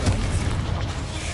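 A loud, booming explosion from the Confringo spell in Hogwarts Legacy, a dense blast that fills the brief moment and rumbles throughout.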